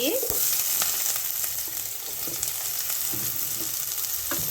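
Three sliced onions frying in hot oil for an egg masala curry, a steady close hiss and crackle running throughout, loud and unbroken, with a few faint clinks of stirring and no talking.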